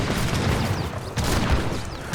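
Dense cannon and musket fire in the Age of Empires 3 Definitive Edition during a 3 vs 3 deathmatch battle at a gate, a continuous rumbling barrage of overlapping booms and crackling shots.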